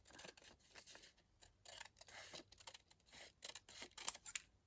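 Paper being cut with scissors for a junk journal, a run of short crisp snips and rustles in irregular bursts, close and fairly quiet, with no talking.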